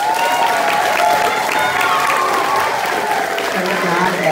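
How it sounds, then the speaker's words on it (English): Steady, dense applause from an audience at an elementary school fifth grade promotion celebration, honoring a student speaker; continuous clapping fills the room at full volume without a break. "Let's give her a round of applause."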